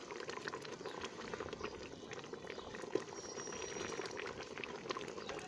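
Tomato ketchup, sweetened with sugar and salted, simmering in a pan with a steady, dense bubbling and popping that stays even throughout, with one brief sharper pop midway.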